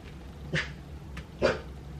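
Two dogs at home react to an expected delivery, giving two short, sharp barks about a second apart, fairly close and otherwise alone over quiet room noise.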